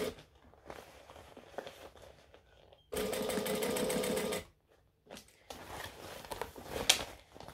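Sewing machine running in a steady loud burst for about a second and a half as it stitches a second layer along bag handles, with quieter handling and fabric movement before and after.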